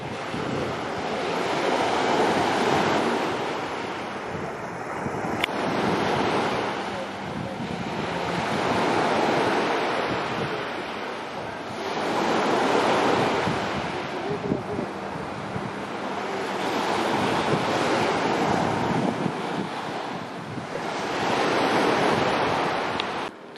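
Evening surf at Vasilias beach on Skiathos rolls in as slow repeated swells of washing waves, broad and steady, with wind buffeting the microphone and no voices.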